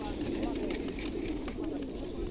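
Released racing pigeons cooing softly in a loft or rooftop setting, low burbling calls under someone talking nearby.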